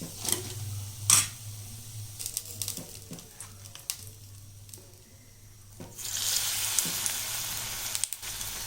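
Maida bonda batter dropped into hot oil, crackling and sizzling close up with a few sharp clinks and pops, the frying rising louder toward the end.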